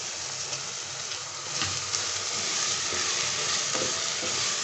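Keema frying in a pan with tomatoes and two or three green chillies, giving a steady, even sizzle with a faint hiss throughout and no voices.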